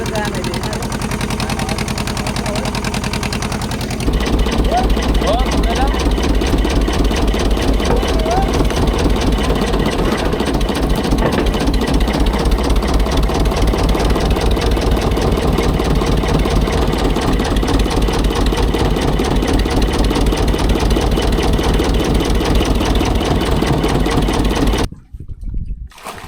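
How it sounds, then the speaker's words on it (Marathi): Fishing boat engine running at sea, a loud steady chugging throb that starts abruptly after a few seconds, with voices talking over it, then cuts out at the end. "हा इंजिन आहे, म्हणून या इंजिनमध्ये आमचा आवाज कमी येतो."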